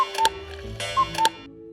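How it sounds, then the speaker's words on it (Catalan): A cuckoo clock in a children's educational cartoon ticks crisply, with a few tonal clicks and chime-like notes repeating over a low hum, near and moderately loud. "aquest rellotge que fa cucú"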